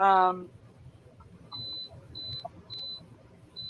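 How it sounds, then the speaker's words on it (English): A home air conditioner beeps as its setting is changed: four short, clear electronic beeps in an even series after a brief voice, faint room noise beneath. "Oh, beep beep. that's my air conditioner."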